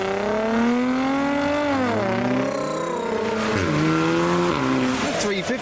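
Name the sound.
modified Lexus car engine revving, leaving car show in rain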